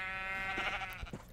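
A sheep in the Minecraft video game lets out a single clear bleat, moderately loud over a steady synthetic background drone, with no talk.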